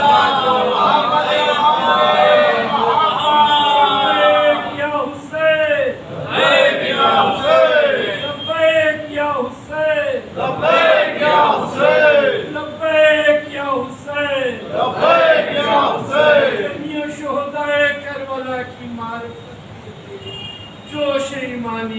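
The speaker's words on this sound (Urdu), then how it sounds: "ایک درود پڑھتے ہیں عظمت محمد" A majlis congregation loudly recites durood together in unison, many voices rising and falling in long chanted phrases that fill the whole stretch.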